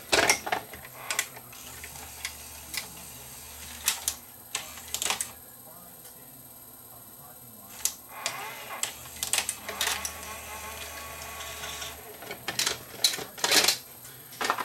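The tape mechanism of a Sony SLHF360 front-loading VCR clicks, whirs and ratchets through its loading and ejecting cycle, giving close mechanical clatter separated by quieter motor hum.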